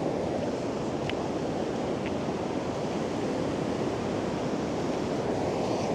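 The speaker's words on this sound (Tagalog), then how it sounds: "Parang mangangain yung alon talaga. Sa lakas." Big storm waves crash at Lamane Beach after days of rain, making a steady, loud, broad roar of surf with wind noise and no pauses or voices.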